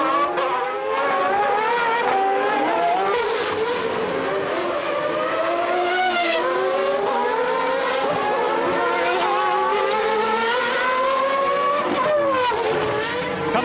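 Formula 1 cars from the 1990 Australian Grand Prix in Adelaide scream past continuously as Senna's McLaren closes to lap a Lotus, high-pitched engine notes rising and falling with gear changes, loud and sustained throughout.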